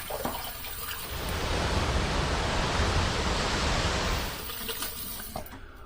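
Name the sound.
water running while rinsing off after a shave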